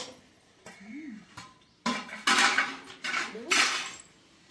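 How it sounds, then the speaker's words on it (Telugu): A spoon scrapes and clinks against a metal pot while layering goat tripe (boti) curry over rice for a dum biryani cooked over a wood fire, giving a few close, irregular metallic knocks and scrapes. "బోటి కర్రీ వేసుకుందాం."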